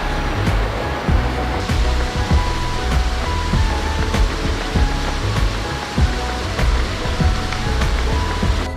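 A mountain waterfall in the Pahadi hills pours in a steady, loud broadband roar that runs without a break, with low rumbling thumps scattered beneath the rushing water.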